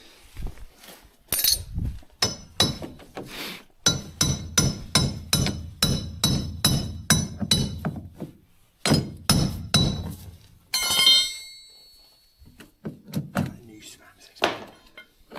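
Hammering nails into thin sheet metal while repairing a door produces bursts of sharp, ringing metallic strikes in quick rhythmic runs, close and loud, broken by short pauses and a brief scraping clatter.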